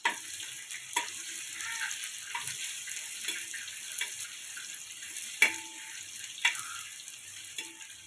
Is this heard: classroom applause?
no